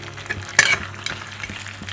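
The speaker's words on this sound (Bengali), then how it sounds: "আবারও এটা আমি নাড়াচাড়া করে রান্না করছি।" Methi malai chicken sizzles in a frying pan while a utensil stirs it, with a sharp scrape near the middle over a steady, close frying hiss.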